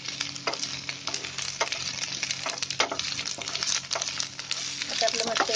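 Chopped onion with ginger-garlic paste and curry leaves frying in a pan, a steady close sizzle with occasional stirring scrapes and small clinks, a voice talking faintly at times.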